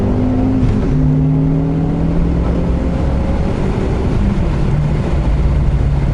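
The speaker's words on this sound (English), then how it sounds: "So now you're gonna come up, you want to downshift and just let her eat." A Ford Focus ST with a manual gearbox downshifts and accelerates, its engine drone rising and falling in pitch with a shift, loud and steady inside the cabin under constant road roar.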